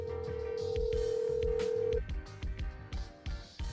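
A telephone call is placed: a steady dial tone holds for about two seconds, then gives way to a series of short, evenly spaced ringing pulses, with no talk.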